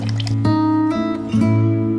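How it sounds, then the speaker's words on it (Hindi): Cold water is poured into blended mango juice, a steady liquid fill with a few splashy onsets, close and fairly loud. "अब हम डाल देंगे इसके अंदर थोड़ा सा ठंडा पानी।"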